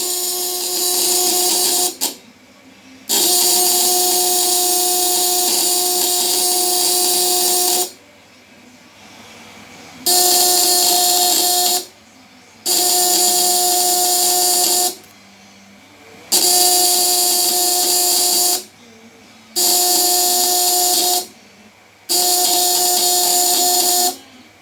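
A homemade 12V electric fish shocker inverter with platinum-style coils hums loudly in steady bursts of a few seconds each, with bright tonal harmonics and hiss, cutting off and restarting several times with short quiet gaps.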